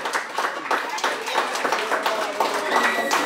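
A crowd at a Thoompunkal family reunion contest keeps up brisk, even clapping throughout, many hands close by with some talking under it.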